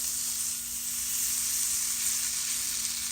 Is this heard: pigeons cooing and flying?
no